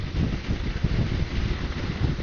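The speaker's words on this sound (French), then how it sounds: "j'ai le vent de face" Steady, loud wind roar buffeting the microphone, a dense low rumble with no pauses, like a 125cc motorcycle riding into a strong headwind on a motorway.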